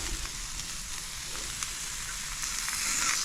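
Red snapper sears on a hot Blackstone griddle, giving a steady, close sizzle and crackle of frying fish that holds level throughout, with no voices.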